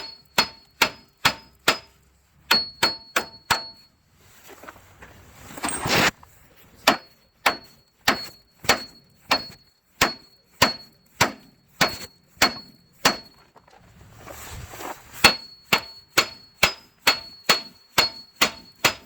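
24-ounce hammer striking a tie rod nut on a Dodge Ram 2500 outer tie rod, roughly thirty sharp metallic clangs in steady bursts with a short scraping pause between, close and loud.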